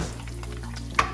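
Eggs sizzle steadily in a hot pan while breakfast fried rice is cooked, a close, even frying hiss broken by one sharp clink of a utensil near the end.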